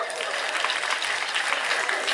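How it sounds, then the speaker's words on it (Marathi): An audience claps for a grandmother at a community exercise talk. The applause is dense and continuous, with many hands beating steadily at an even loudness for the whole stretch. "आजींच्यासाठी टाळ्या वाजवा"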